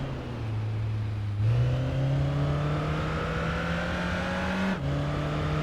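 Yamaha junior-class motorcycle engine from the racing game Tourist Trophy, holding a steady low-revving drone that rises slightly, dips with gear shifts near 1.5 and 4.8 seconds, and stays loud and continuous without talk.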